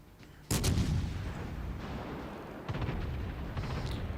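Heavy battleship main guns fire in World of Warships Legends, two deep booming salvos, the first loud and sudden, the second softer a couple of seconds later, followed by rumbling echoes.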